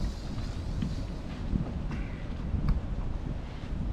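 Wind blustering outdoors at a building site where walls are being framed, a steady loud rushing buffet across the microphone with a few gusting peaks and faint background noise, no speech.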